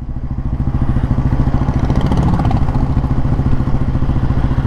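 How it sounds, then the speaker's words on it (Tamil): A 1957 Royal Enfield Bullet G2 with an oversized silencer runs close by, its single-cylinder engine thumping in a loud, even, rapid beat with mechanical clatter, steady throughout with no voices. "என் வண்டி சைலன்சரை விட இது கொஞ்சம் பெரிய சைலன்சர், அதனால் சவுண்டாக நல்லாயிருக்கு"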